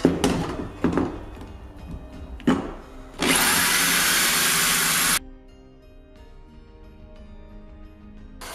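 A power drill whirs steadily for about two seconds as its bit drives into a workpiece while a saw-blade axe prop is built. A few sharp knocks and thunks come before it, and a quieter hum follows.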